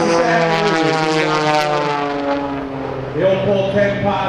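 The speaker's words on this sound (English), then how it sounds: "That airplane composite, weighing in about 600 pounds, powered by a 300 horsepower engine." A two-seat composite aerobatic airplane weighing about 600 pounds, with a 300-horsepower propeller engine, drones loudly overhead at an air show, its engine note sliding in pitch as it dives and climbs, with announcer-style chatter faintly beneath.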